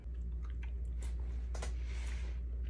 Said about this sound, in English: Do you not see everyone else chewing?